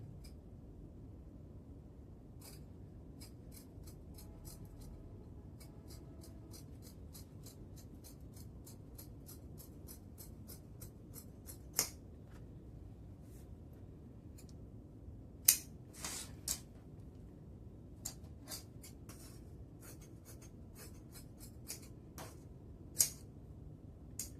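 Scissors snip through blouse fabric while the front part is cut for a three-quarter-sleeve blouse, giving a steady series of quiet, crisp clicks and snips with a few louder ones, alone over faint background hiss.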